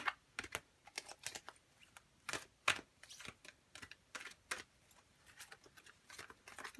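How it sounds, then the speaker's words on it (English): Tarot cards being shuffled by hand, a quick irregular run of crisp riffling clicks and soft slaps, close and fairly quiet with no talking. "let's get shuffled and let's see what we got for you"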